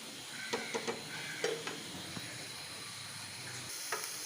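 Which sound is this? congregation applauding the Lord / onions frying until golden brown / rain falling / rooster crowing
onions frying until golden brown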